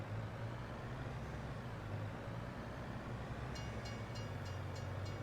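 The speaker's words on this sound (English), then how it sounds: "And here comes the train." Train passing in the Farming Simulator 22 video game, a steady low rumbling roll with continuous rushing noise, brief ringing tones joining near the end.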